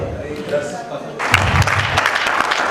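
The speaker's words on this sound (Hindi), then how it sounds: "जोरदार तालियां।" A talking voice gives way to a sudden burst of loud, dense applause from an audience at a direct-selling event. The clapping lasts steadily to the end, with speech continuing over it.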